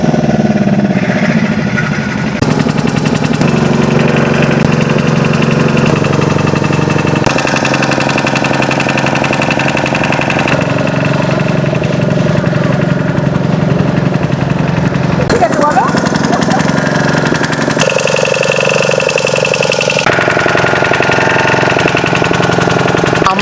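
A motor boat engine drones steadily throughout a boat ride at Bagda beach in Odisha, loud and close, with its pitch shifting now and then and voices talking over it.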